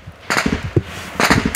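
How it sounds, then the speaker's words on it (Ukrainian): Machine-gun and automatic rifle fire aimed at Ukrainian soldiers near Horlivka, heard as two sharp bursts of cracking shots with scattered single reports between them, loud and close, with no talk. "стріляють по нам з пулеметів, з автоматів"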